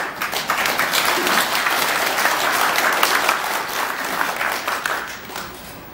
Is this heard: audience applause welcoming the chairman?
yes